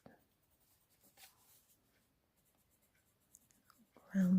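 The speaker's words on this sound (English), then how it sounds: "I'm going to use my blue pencil here to just" A blue pencil scratches and strokes softly across paper in short, quiet bursts of drawing, with faint pauses between marks and a brief louder rustle at the very end.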